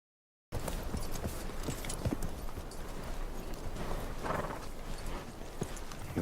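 Horse hooves clip-clop steadily through snow as a young boy rides, with a brief whinny amid continuous moderately loud outdoor movement and no voices.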